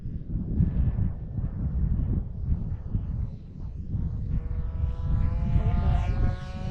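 A BlitzRCWorks P-40 Warhawk 1100mm RC plane on its maiden flight, its spinner out of balance, drones steadily overhead with a rising, wavering whine, roughened by wind buffeting the microphone.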